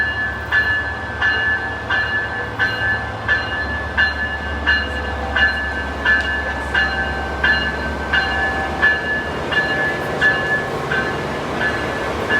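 An Amtrak Pacific Surfliner passenger train arriving at San Clemente station rumbles steadily nearby with a constant low roar, a sustained tonal whine and regular clicking of wheels over rail joints.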